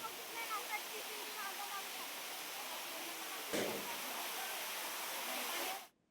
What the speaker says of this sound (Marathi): पावसामुळे गडाच्या पायऱ्यांवर पाणी खळखळून वाहिलेलं आहे